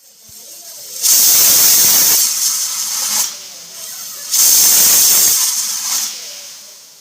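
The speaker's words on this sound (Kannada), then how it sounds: "ಕುಕ್ಕರ್ ಲಿಡ್ಡನ್ನು ಕ್ಲೋಸ್ ಮಾಡಿ ಎರಡು ವಿಜಲ್ ಕೂಗಿಸ್ಕೊಳ್ಳೋಣ" A pressure cooker cooking egg biryani releases two loud whistles of hissing steam, each lasting about two seconds, with a quieter hiss between them.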